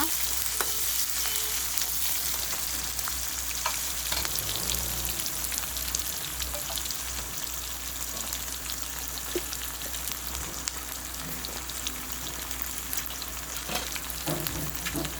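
Green chillies sizzle steadily in hot oil in a pan, with a spoon scraping and stirring through them; a constant close crackling hiss with no speech.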